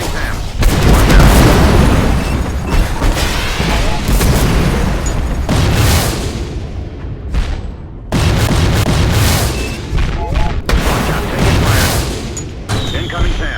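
Loud, dense booms and rumbling blasts from destroyed targets in a drone combat video game, repeated bursts overlapping continuously, with radio-style voice callouts over them.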